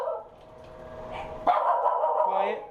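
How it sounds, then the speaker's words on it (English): A dog barks at close range, one sharp loud bark near the midpoint following quieter whining, with a brief background voice and indoor water-like hiss. "sorry for the barking"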